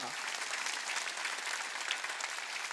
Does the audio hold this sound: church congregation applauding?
yes